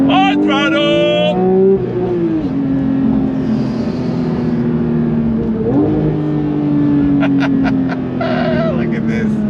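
Full-throttle engine revving from a 992-generation Porsche 911 GT3 Touring with manual transmission, a loud rising howl that climbs toward redline, drops at a shift and climbs again, with a person talking over it at times.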